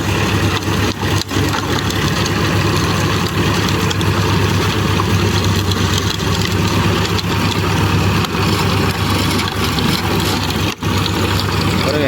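A Swaraj 963 tractor drives a mulcher through a field of dense scrub, its heavy engine droning steadily and loud throughout, with a constant low rumble and broadband grinding of the cutter and no pauses.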